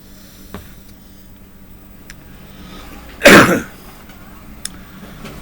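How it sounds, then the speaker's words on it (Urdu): A single sharp cough with throat clearing bursts out near the mic, loud and brief, during a quiet pause in an Islamic religious broadcast. "کھانسی لگ گئی"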